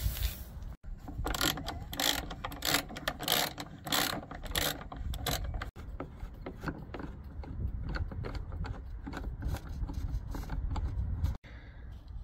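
Ratchet removing the 10mm screws that hold a VW Jetta MK5 headlight, heard as a continuous fast clicking ratchet close by with brief gaps, with no talk.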